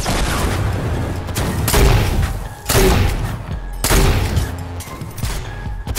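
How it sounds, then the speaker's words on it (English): Grenade explosions in a Fortnite solo battle, several loud booming blasts spaced about a second apart, each with a heavy low thump and a crackling tail, heard without talk. "Grenades are hitting him."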